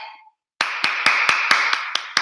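Crisp, rhythmic claps for Sister Jennifer Lowe, about eight evenly spaced strikes over a steady bright wash of applause from a gathered audience, close and loud after a short silence.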